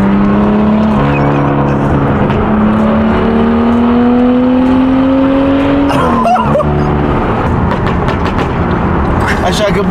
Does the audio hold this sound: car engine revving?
yes